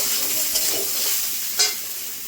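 Ridge gourd is stirred into fried potatoes in a pan, producing a brief sizzle overlaid with a couple of soft scraping stirs close by.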